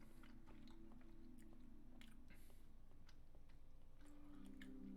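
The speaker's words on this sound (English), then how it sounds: "Can you hear me munching on macaroni?" Someone munches on macaroni close up, with soft wet chewing and biting clicks repeating steadily over a constant background hum.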